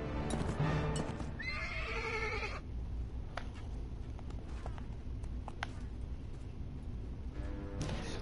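A horse in the Mount & Blade: Warband video game neighs and whinnies loudly up close, followed by scattered clip-clop hoof steps and small in-game sounds.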